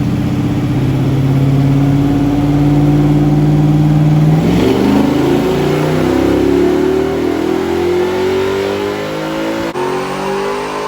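A rock crawler's engine revs hard on a test drive, loud and close, its pitch climbing steadily as the throttle opens, then holding at a high, strained drone, with no talking over it.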